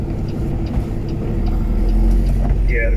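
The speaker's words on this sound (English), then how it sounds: "There's an early car coming out." A car drives along Highway 400 near Barrie during a snow blizzard, its engine and road rumble a steady, loud presence throughout, with a brief higher whine near the end.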